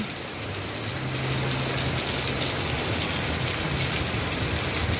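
Heavy rainy-season rain pours down steadily, a dense, loud hiss of drops drumming on surfaces that holds constant throughout with no voices.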